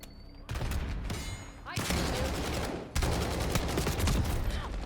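A CR-56 AMAX assault rifle fires in Black Ops 6, with loud sustained automatic bursts in several stretches separated by brief gaps.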